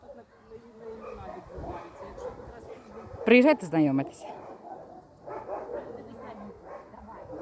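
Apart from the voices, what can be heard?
large shelter dog barking and whimpering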